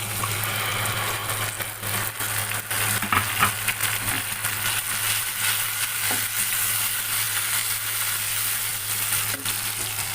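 Tomato, ginger and garlic paste frying in a pan over a low flame, giving a steady broadband sizzle with occasional stirring scrapes and a constant low hum beneath, no voices.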